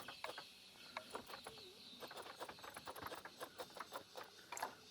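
Horse hooves clip-clop in the zoo management game Planet Zoo, a steady run of soft, moderately distant hoof taps mixed with faint bird and chicken-like chirps in a desert zoo ambience.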